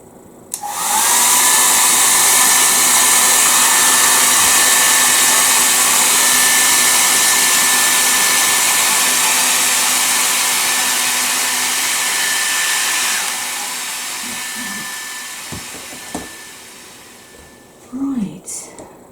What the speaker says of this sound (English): Now I'm going to use the hairdryer just to dry that off